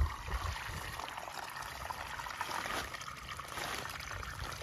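Floodwater flowing across storm-flooded rice fields, a steady broadband rush and trickle of moving water holding even from start to finish, with no voices.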